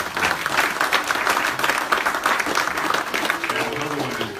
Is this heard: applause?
yes